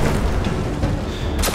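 A scorch cannon fires in the video game Destiny, a loud, booming blast with a heavy low-end rumble that swells and holds, followed by a sharp burst at the end, with no talk.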